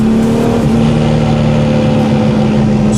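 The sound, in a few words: 1000 hp BMW engine at high revs, throttle released while decelerating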